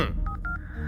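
A telephone is dialed for a call, three short touch-tone beeps in a quick row, clear and close over a low background hum.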